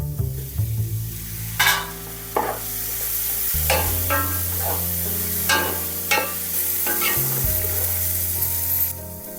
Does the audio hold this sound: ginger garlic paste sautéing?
yes